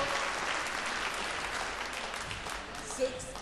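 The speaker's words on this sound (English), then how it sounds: "Big round of applause." Sustained audience applause fills a women's singles badminton final at the Irish Open, steady and dense throughout, with a commentator talking over it.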